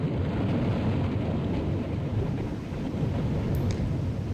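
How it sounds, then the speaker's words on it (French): Stormy wind roars and buffets the microphone in a loud, continuous rush, with a low rumble running underneath that fits distant thunder, and no voices. "Tempête."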